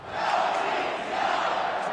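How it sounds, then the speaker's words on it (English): Carolina Hurricanes hockey fans chanting together in an arena during a Stanley Cup Finals game, a dense, loud crowd roar sustained without a break. "It was really nice to see the Canes fans chanting "No means no.""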